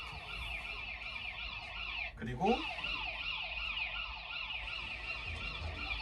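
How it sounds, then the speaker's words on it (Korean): An educational smart board toy plays a rising and falling electronic siren effect, steady and continuous, with a brief interruption where someone speaks a word over it. "병원 사이렌 소리가 나거든요"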